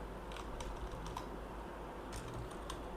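Soft, quick keystrokes on a computer keyboard as HTML is typed into Notepad, light irregular clicks in scattered bursts at low volume with no talking.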